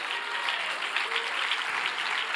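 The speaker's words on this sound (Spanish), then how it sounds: "Dale un aplauso al Señor." Church congregation applauding together at the end of a service, a dense sustained wash of clapping heard from within the crowd, with no speech over it.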